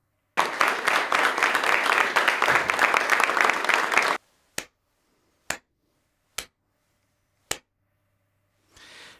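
Dense applause from a crowd fills the first four seconds and then stops abruptly, followed by four isolated sharp claps spaced apart and a faint rustle at the end.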